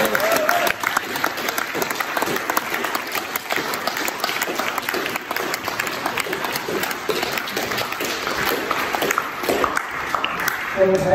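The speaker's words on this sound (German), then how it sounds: "Ich möchte einfach mit einem Applaus für Heinrich gern uns anfangen" Sustained audience applause fills an art academy lecture hall in Vienna, dense and steady for about eleven seconds, with a murmur of voices mixed in and no pauses.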